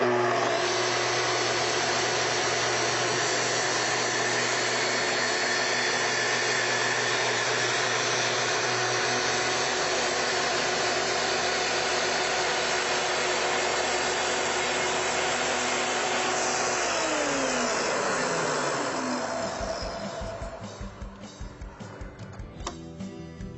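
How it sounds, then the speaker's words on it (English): A Festool TS tracksaw runs in a long, steady high whine through a plunge cut, loud and close, then spins down near the end and fades to quiet rattles. "To make your cut, plunge in slowly all the way down and advance forward until you reach the"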